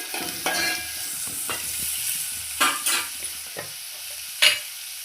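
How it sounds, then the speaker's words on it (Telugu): Onions fry in a pan while being stirred, a continuous close sizzle broken by several sharp scraping strokes of a utensil. "ఉల్లిగడ్డ ఎక్కువనే పడుతుంది. వేసుకున్న తర్వాత ఒకసారి కలుపుకోండి."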